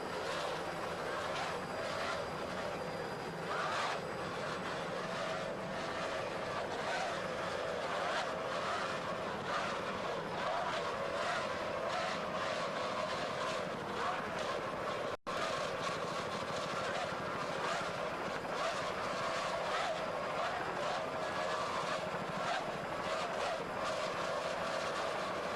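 Racing powerboat driven by twin 2.5 EFI outboard engines at Key West roars steadily, a loud continuous high-revving drone with broad wind-like noise, sustained throughout with no pauses.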